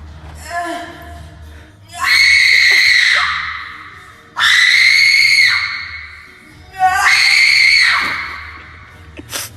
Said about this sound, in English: giving out death-curdling screams every time he lifts the weight